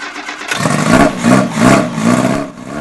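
A Lotus 69 single-seater racing car engine is cranked and fires, catching after a short churn and then rising and falling through several loud, rough revs close by.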